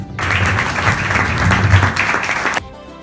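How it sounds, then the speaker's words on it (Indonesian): Applause from a classroom of students after their group presentations, a dense burst of clapping lasting about two and a half seconds before cutting off abruptly. "Aplaus buat kalian semua."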